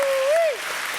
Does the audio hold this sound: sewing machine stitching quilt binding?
no